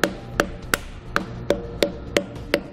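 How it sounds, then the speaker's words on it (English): A rubber mallet or dead blow hammer taps a dust cap onto a Dexter trailer hub and drum assembly. Eight sharp, evenly spaced knocks ring out close up at a steady rhythm, with no talking. "Then tap your dust cap on using a rubber mallet or dead blow hammer."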